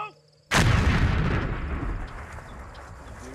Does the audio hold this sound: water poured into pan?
no